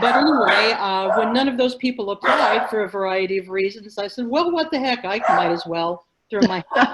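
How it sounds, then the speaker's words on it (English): Dogs bark and yip indoors in the background while someone talks continuously in the foreground, the animal sounds mixed under and between his speech. "Sorry about the dogs."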